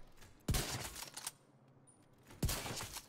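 Two loud, sharp sniper rifle shots ring out in a video game, about two seconds apart, each with a sudden blast and a decaying tail, from a high-damage Hotshot sniper build.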